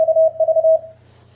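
Morse code sidetone from a laptop sending through an iCW interface: a steady single-pitch beep keyed in short and long pulses, loud and clean, then stopping into near silence.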